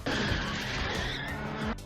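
A car drifting in a Japanese-style street race gives a loud, sustained tire squeal with engine roar for nearly two seconds before cutting off.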